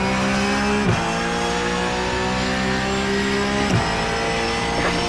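A damaged Porsche GT3 Cup race car lapping in iRacing, the engine droning loud and close as it rises through the revs, with two quick downshift dips and light tire scrub.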